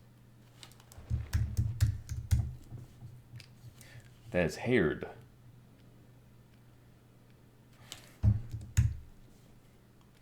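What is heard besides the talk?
loud typing on computer keyboard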